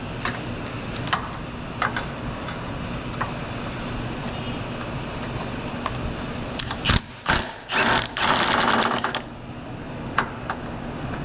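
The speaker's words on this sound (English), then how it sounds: "I'm gonna take the top two bolts out first" Ratchet with a universal joint working bolts loose from the AC compressor of a Honda CR-V, giving faint ticking clicks followed by a louder burst of close, rapid ratcheting near the end, with no talking.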